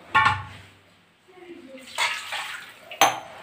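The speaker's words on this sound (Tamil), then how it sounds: "1 டம்ளர் தண்ணி விட்டு" Water is poured into a pressure cooker holding duck pieces for a Kerala-style duck roast, with a few short splashes and a voice talking over them.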